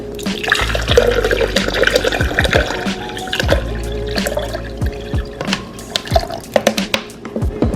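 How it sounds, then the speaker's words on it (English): Water pours and splashes into a blender jar, with clunks and knocks of handling scattered throughout; no talking. "Now I will add some water."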